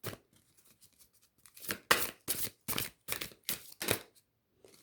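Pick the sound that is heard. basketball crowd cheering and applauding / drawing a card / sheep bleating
drawing a card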